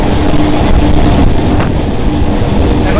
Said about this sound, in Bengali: ট্রেনে প্রচণ্ড হাওয়া ছিল গাইস, তাই ব্যাকগ্রাউন্ডে এরকম আওয়াজ হচ্ছিল